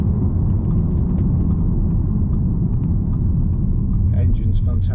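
A 2013 Audi SQ5 3.0 BiTDi Tiptronic quattro diesel drives on a test run, its engine and road noise forming a loud, steady low rumble throughout.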